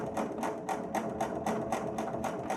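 A sewing machine stitches through a thick fabric mask, close and steady, with a rapid regular chatter of needle strokes repeating evenly throughout.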